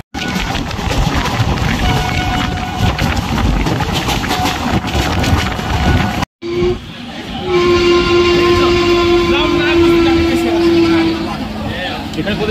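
A passenger train on the new Krishnanagar–Azimganj route rumbles steadily along the rails with loud, continuous rolling noise, briefly cut off midway, while a voice talks over it.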